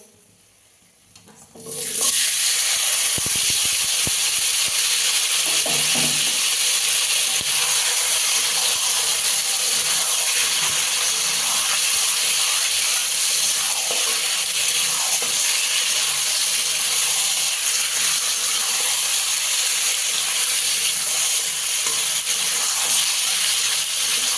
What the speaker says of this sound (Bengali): এবার মাংসটা দিয়ে দেবো ম্যারিনেট করা মাংসটা ঢেলে দেবো